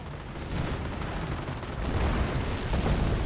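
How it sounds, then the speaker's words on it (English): Continuous rumbling barrage of explosions and rapid gunfire in the video game Company of Heroes, dense and loud throughout with no pauses. "Explosions raining on in."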